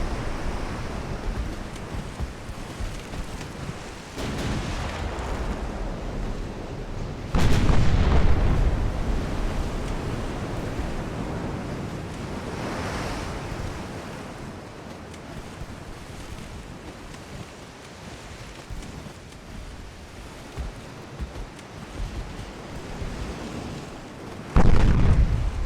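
In Ultimate Admiral: Dreadnoughts, 8-inch naval guns fire in two heavy booming salvos, one early and one near the end, over a constant bed of wind and ocean surf.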